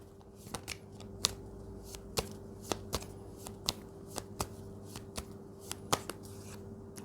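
Tarot cards being shuffled by hand during a reading, a quick series of crisp riffling snaps and soft flutters repeating irregularly over a steady faint background hum.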